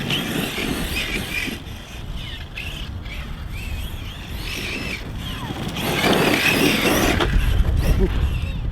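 ARRMA Big Rock Crew Cab 6S RC truck with a Rocket motor and 17T pinion, its motor whine and tyre noise rising and falling outdoors over a steady rumble, louder toward the end, with birds chirping faintly in the background.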